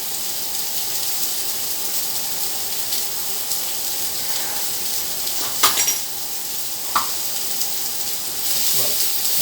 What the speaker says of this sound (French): Et nos pommes, on les laisse toujours saisir.